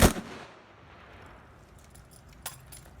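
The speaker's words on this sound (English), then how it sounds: "Ready. Aim. Fire." A single sharp rifle volley from a firing squad bursts out loud at the start and then fades into quiet outdoor air, followed by a fainter metallic click or clatter a couple of seconds later.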